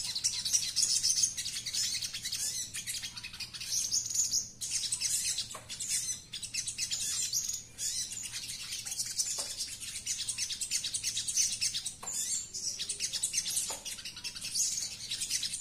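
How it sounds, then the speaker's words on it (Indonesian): Repeated sogon bird calls and chirps, fairly close and steady over a low hum, with short bursts of tweeting throughout and no talking. "masih mau bunyi ketika bertemu dengan burung sogon yang lain"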